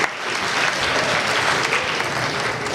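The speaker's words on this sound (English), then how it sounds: "Give them a round of applause." A career expo audience breaks into loud, dense applause, many hands clapping together in a continuous wash for a few seconds.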